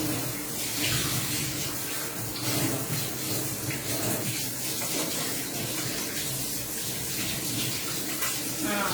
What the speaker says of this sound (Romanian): O să mă trebuiască să mă spăl pe mâini, da, imediat